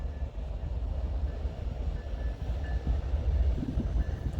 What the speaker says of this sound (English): So this was a snow shuttle train.